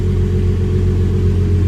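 Hyundai Genesis Coupe fitted with new downpipes and test pipes idling with a loud, steady, deep exhaust rumble, close by and unbroken throughout.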